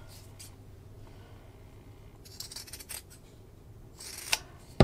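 Scissors trim a thin sliver of fabric from the corners of a lined T-shirt tote bag, a few quiet close snips over soft background hiss, the last cuts a little louder.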